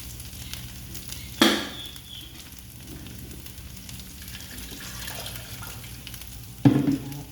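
Freshly pounded herb curry paste with garlic stir-fries in a pan with a steady soft sizzle, broken by two sharp scraping clatters from the spatula, one early and one near the end.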